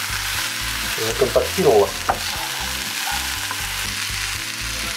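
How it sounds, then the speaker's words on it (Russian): Vegetables with spices, including peppers and cauliflower, fry in a pan with a steady dense sizzle, while brief stirring scrapes and clatters rise in the middle and a short spoken word comes through. "я перемешал овощи со специями, они у нас немножко обжариваются"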